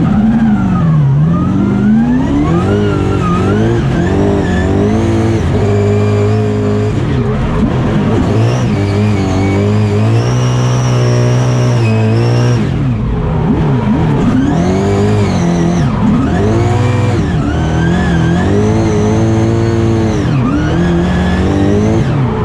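Drift car on a full-speed run at Mondello Park, heard from inside: engine revs rising and falling hard between gear changes, with tire squeal and skidding, loud and continuous throughout.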